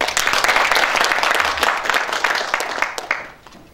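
An audience at a Chungbuk National University faculty debate applauds a professor about to present policy, a dense, steady wash of clapping from many hands that thins out and fades near the end.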